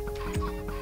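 Chickens cluck in the video game Minecraft, a few short clucks close together over a steady droning game background, with no talking.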